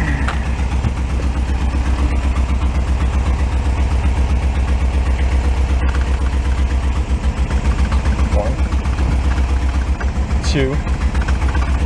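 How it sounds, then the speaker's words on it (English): An old Porsche 914 engine runs steadily nearby at a loud, rough idle while its transmission is worked through the gears, with people talking over the mechanical drone. "I want to check the trans out real quick. I want to run it through the gears."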